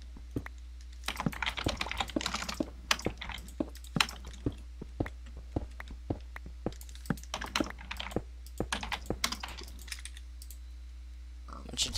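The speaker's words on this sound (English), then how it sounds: "you can hear me typing so loud" Fast, uneven clattering of keys on a computer keyboard runs throughout, close and crisp, with occasional louder key strikes and a steady low hum beneath.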